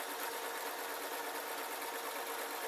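A sewing machine stitches buttonholes into an unlined jacket, a faint, fast, even mechanical whir running steadily throughout with no talk.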